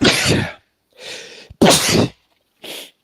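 A run of loud, close sneezes, three or four bursts in quick succession with short gaps between them.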